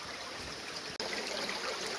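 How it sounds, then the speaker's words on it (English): Creek water flowing out of a hole in the rock near Australia's largest caves, making a steady, close rushing and gurgling wash with no talking over it. "So this is a creek system running up here, and the water's just coming out of this hole in the rock."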